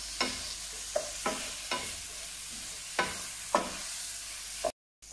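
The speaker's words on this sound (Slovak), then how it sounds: "A takisto opekáme aj rýžu aspoň minútu." Rice and mushrooms sizzling in a pan with repeated scraping stirs, soft rhythmic strokes over a steady frying hiss, then a brief cut to silence.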